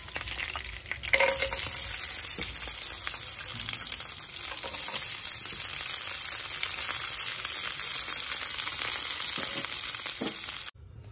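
Cashews and raisins fry in hot ghee for basanti pulao, a loud steady sizzle with occasional stirring scrapes that runs on for several seconds, then cuts off abruptly.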